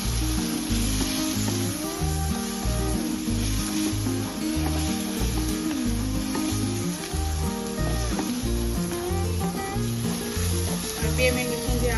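Masala with tomatoes, spiced with coriander powder, turmeric and salt, sizzles steadily in a pan for a masala dosa filling, a continuous close frying hiss under a strong rhythmic low-frequency pattern that sounds like background music.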